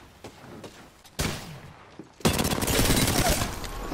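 Gunfire in the battle royale game Apex Legends, a few scattered shots giving way to a loud, sustained burst of rapid automatic fire, close and dense.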